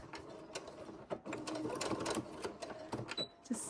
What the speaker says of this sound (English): we're gonna go forward here, and we're gonna back stitch a bunch of times